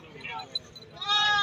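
A goat bleats, rising loud near the end, amid the steady crowd babble of a livestock market in Jhelum, Dina, where goats are traded for Qurbani.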